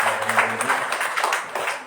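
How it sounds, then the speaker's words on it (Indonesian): Brief applause from an audience at an Indonesian seminar on trademark registration for small businesses, a short burst of clapping with a voice over it. "Tepuk tangannya dulu."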